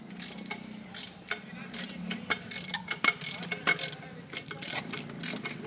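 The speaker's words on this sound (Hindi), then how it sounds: "पूरा बोल्ट टाइट हो रहा है" Bolt being tightened on a Voltas forklift gearbox during repair: a series of irregular ratcheting clicks and metallic taps over a low steady hum, moderately close, with no talk.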